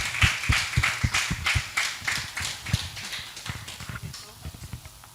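A small group claps in an uneven rhythm, close and fairly loud at first, thinning out and fading toward the end.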